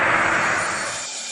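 A steady, broad roar of an airplane engine in flight fills a short moment, close and loud, easing slightly in level toward the end.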